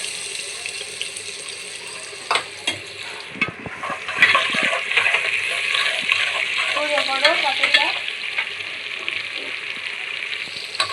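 Onions fry in hot oil in a frying pan, giving a loud, continuous sizzle broken by sharp scrapes and clinks of stirring.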